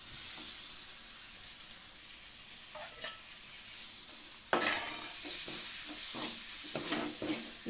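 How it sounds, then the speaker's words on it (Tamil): Chopped tomato sautéing in a pan for chicken gravy: a steady, close sizzle with spatula stirring and scraping that grows louder and busier about halfway through, with no one talking. "இப்போ இந்த தக்காளி வந்து நல்லா வதங்கிருக்கும்."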